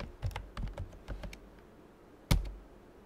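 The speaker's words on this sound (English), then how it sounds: "So here you can start typing the code." Keys on a computer keyboard tap in a quick burst of close, crisp clicks while code is typed, then a pause and one louder key strike.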